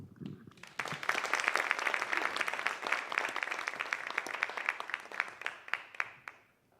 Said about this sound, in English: Can we just give one more big round of applause to our VA students?